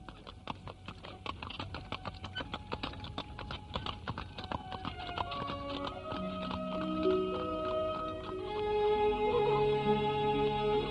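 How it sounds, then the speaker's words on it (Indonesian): A horse-drawn carriage rolls along a village road in a radio drama, its hooves clip-clopping in a steady rhythmic patter for several seconds before fading under rising musical tones. "Kereta kuda yang ditumpangi Arya Dwi Pangga dan Narirati berjalan menyusuri jalan desa yang amat indah pemandangannya."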